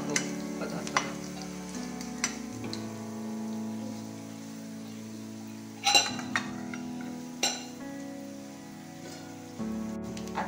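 Garlic sizzles and fries in hot oil in a pan for a lentil usal, a steady hiss with a few sharp stirring clinks and spatula scrapes along the way.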